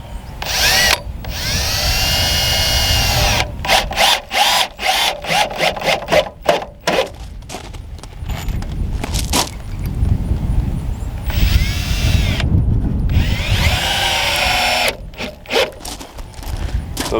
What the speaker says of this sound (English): And then I can drive a screw in.